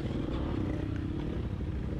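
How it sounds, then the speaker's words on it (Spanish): A Kawasaki KLR 650 dual-sport motorcycle idling or running at a cold, rainy and muddy ride start, a steady low engine rumble with a rough texture, moderately loud and without talk over it. "Esa moto puede hacer la ruta que le dé la gana."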